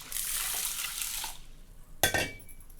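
Rice and chana dal washed in a kitchen bowl, giving a steady rushing pour of water followed by a sharper splash and sloshing as the grains are swirled.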